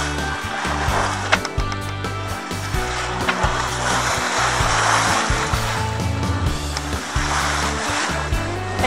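Ocean waves against a sailboat heading out into the open Atlantic near the Gulf Stream, a loud continuous wash of water with wooden knocks and thumps from the hull.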